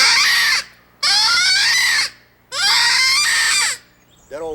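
A hand-blown predator call imitates a distressed rabbit for turkey hunting, giving three loud, shrill, wavering screams about a second long each, separated by short pauses and heard up close.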